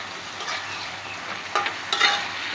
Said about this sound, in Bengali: এখন আমি ঢাকনাটা খুলে আবার একটু নাড়াচাড়া দিয়ে নিব।